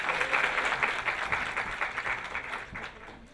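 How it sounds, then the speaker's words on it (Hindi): An audience applauds to welcome a speaker, a steady wash of many hands clapping that holds for a few seconds and slowly thins out toward the end. "एक बार तालियों से स्वागत करें।"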